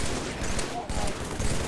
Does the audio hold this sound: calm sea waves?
no